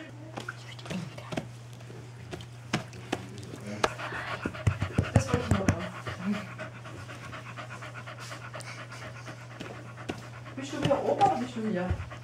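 A dog pants steadily and close by while getting a treat, with quick rhythmic breaths, some chewing and soft whimpers, under quiet, hushed voices.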